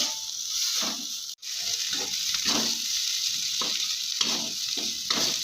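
Ash gourd mash sizzles steadily as it fries in oil in a wok, with rhythmic scraping strokes of stirring throughout, loud and close.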